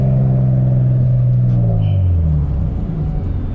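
An Infiniti G35 coupe with a modified exhaust accelerates, a loud deep engine drone rising in pitch as it pulls, rumbling steadily throughout.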